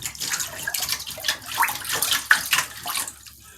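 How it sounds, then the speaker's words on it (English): Water sloshes and splashes steadily as feet shift about in a bathtub filled with ice water, close and fairly loud throughout. "sitting in the bathtub in ice water, soaking my feet"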